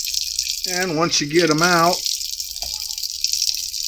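Running water gushes steadily from a tap as boiled eggs are rinsed off in a sink, with someone talking briefly over the flow.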